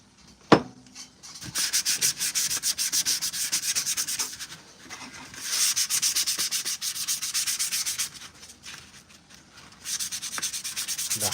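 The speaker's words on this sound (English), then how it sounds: "So we're going to switch to a 400 grit. And just go to town on this to really smooth it out and get it ready." Fine 400-grit sandpaper rubbing steadily over a custom Mandalorian armor piece being smoothed for paint, in three long bursts of close, even scratching separated by brief pauses.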